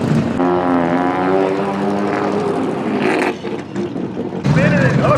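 A gasser drag car makes a pass at a drag strip, its engine roaring loud and close with rising harmonic tones, then fading before another burst of noise at the end, with announcer-style talk over it.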